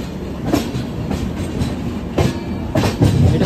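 Guwahati superfast weekly express train rolling along the rails, with a steady rumble broken by repeated clickety-clack wheel beats over rail joints, heard close from on board with no voices.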